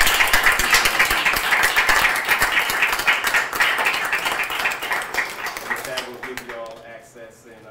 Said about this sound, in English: can you just give a round of applause to everybody that you can't see,